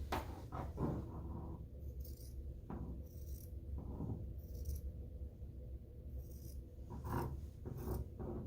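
Scissors cutting through a cotton T-shirt to shape a tote bag's strap opening, giving raspy snips and rubbing fabric in an uneven run of strokes, close and fairly quiet with no talking.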